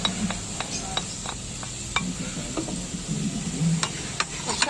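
Garlic sizzles steadily in a hot pan for a carbonara, with a utensil stirring and scraping in short irregular strokes over the constant frying hiss, close and moderately loud.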